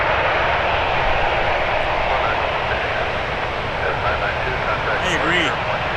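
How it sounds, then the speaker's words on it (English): A Delta Connection RJ 900 regional jet at Toronto Pearson airport roars steadily with a loud, broad engine rush throughout, close and continuous, while a voice talks faintly underneath. "RJ 900 flying for Delta Connection."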